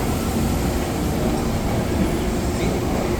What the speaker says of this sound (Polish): Następnego dnia wsiedliśmy w pociąg wyjątkowo stylowy.